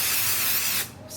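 Basting adhesive sprayed from an aerosol can onto embroidery stabilizer, a close, steady hiss that lasts most of the moment and then tapers off briefly before resuming.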